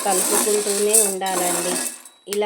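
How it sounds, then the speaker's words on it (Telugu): A laddu mixture for sathi mudda laddu stirred steadily in a pan as it roasts, a metal spoon scraping and clinking against the pan beneath continuous tonal background music. "కలుపుకుంటూనే ఉండాలండి ఇవి వేగేదాకా."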